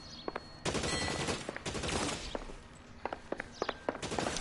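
Gunfire in the video game L.A. Noire, a rapid fusillade of sharp shots and thumps that keeps going in close, dense bursts, with nobody speaking.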